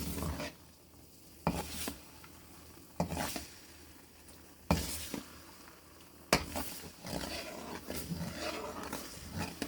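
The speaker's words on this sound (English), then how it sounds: "So we're going to get these eggs to cook." Eggs cook in a wok for shredded chicken fried rice, after onions were fried first. The sizzle is steady and moderately loud, with sharp stirring scrapes repeating every second or two.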